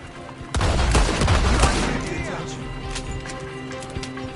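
A burst of gunfire from a shootout in Red Dead Redemption 2 on the streets of Saint Denis, loud rapid shots with booming echoes at first, then fading into distant scattered shots under a steady background rumble.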